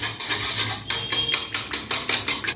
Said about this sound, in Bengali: এবারে তেলটাও এই দুধের সঙ্গে ভালো করে মিশিয়ে নিতে হবে।